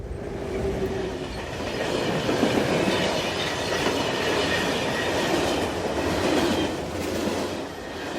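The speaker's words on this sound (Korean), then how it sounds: "열차가 드디어 세종시를 벗어나 대전 경계로 들어서는 중이었다." A train runs steadily on rails in a radio drama sound effect, a dense continuous rumble and clatter of wheels that stays loud and even throughout, with no voices.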